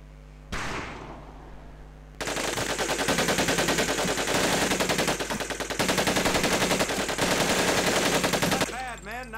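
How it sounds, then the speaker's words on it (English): A fully automatic weapon in Medal of Honor Pacific Assault fires loud, close bursts of rapid shots, one after another with short pauses between them, following a single shot and a brief lull. "Take your time to aim and fire the weapon in short bursts only."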